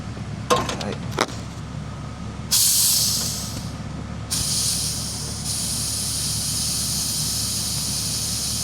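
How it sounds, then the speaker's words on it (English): Compressed air blown through a fuel nozzle in a vehicle's gas tank filler, heard as bursts of loud broadband hiss, with a couple of short sharp blasts followed by longer steady rushing that shifts in strength. "just gonna run some air through it. Make sure nozzle's not leaking."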